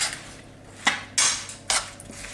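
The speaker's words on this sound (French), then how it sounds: "Je les fais revenir un peu dans le beurre." Apple quarters browning in butter in a pan on a cooktop, with a low sizzle under a few sharp clinks of a utensil against the pan, three distinct knocks standing out.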